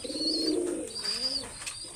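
A purebred golden pigeon from an imported bloodline, just finishing its moult, gives two soft, throaty coos close by, each a low warbling note with a faint higher overtone, separated by a brief pause.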